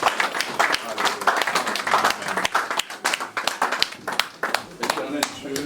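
A congregation claps at a memorial service, sharp irregular hand claps mixed with voices of people talking and calling out, fairly close and steady throughout.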